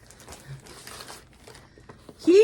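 Plastic bag crinkling and rustling around a cross-stitch project, with soft intermittent crackles building to a louder, close crinkle at the end.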